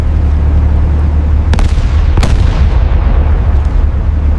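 Cannons fire from tanks in armored warfare across snow and desert terrain, with a few sharp booming blasts over a constant heavy rumble of battle, loud and dense, with no voices.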